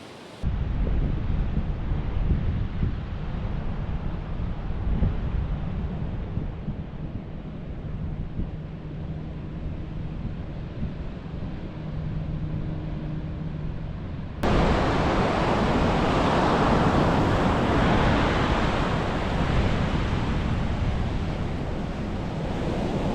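Surf and wind at Redhead Beach roll in as a steady broadband wash, then turn noticeably louder and rougher partway through.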